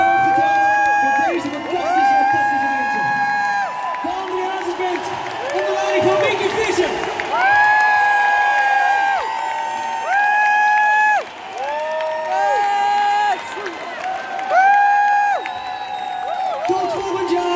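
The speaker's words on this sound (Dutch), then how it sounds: "En ik wil een applaus." A large arena crowd at a live finale medley in Ahoy cheers, whoops and applauds, the roar blending with sustained musical tones and crowd singing across the whole stretch.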